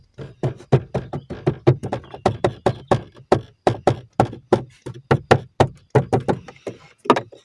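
A rapid series of sharp knocking rattles from an Alfa Romeo's suspension, fairly evenly spaced, close by and fairly loud, with no talking.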